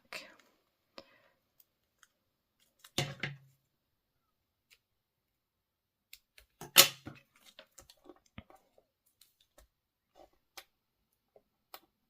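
Card paper being cut for a handmade card, heard as faint, scattered snips and clicks with two slightly louder bursts of cutting, otherwise quiet.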